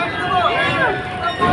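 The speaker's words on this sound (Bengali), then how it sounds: "এটা মুন্সিগঞ্জ লঞ্চ ঘাট।" Crowd bustle at the Munshiganj launch terminal, where voices overlap in a loud, close babble of chatter and shouts with boat noise underneath.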